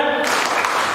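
A classroom of children does a rhythmic spirit clap together, producing a loud, dense burst of many hands clapping at close range for about a second.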